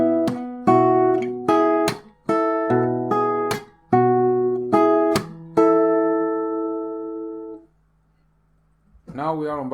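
An acoustic guitar played fingerstyle works through two bars of a song from Naruto Shippuden: percussive strummed and plucked chords with sharp slap attacks, ringing out and fading to silence, then a voice starts speaking.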